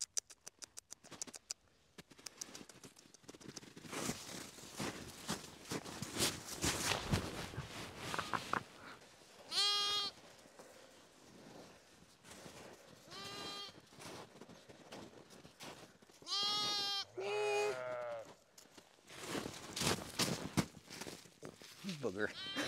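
Several sheep and goats bleat in short, wavering calls scattered over a rustling, pattering background, some close and loud, others softer, with occasional speech.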